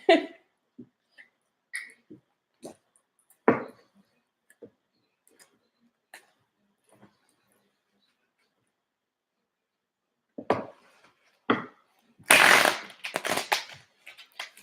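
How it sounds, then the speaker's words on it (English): Tarot cards are shuffled in quick riffling bursts, with scattered soft taps and clicks between, followed by a louder flurry of shuffling near the end. "Oh, that was a horrible shuffle."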